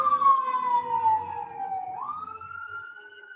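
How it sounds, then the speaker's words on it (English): A wailing emergency vehicle siren passing by outside in a busy neighborhood, its pitch sliding down and then rising again, moderately loud over low traffic rumble. "Ignore those sirens."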